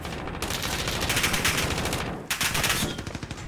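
Sustained, loud automatic machine gun fire in a video game rattles continuously in rapid bursts, with a brief pause partway through before the firing resumes up close.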